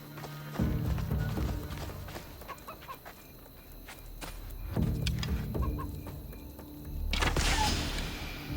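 A chicken in Assassin's Creed Odyssey gives a few short clucks over a busy game soundscape of shuffling steps and low rumbling ambience, with louder swells near the start, the middle and the end.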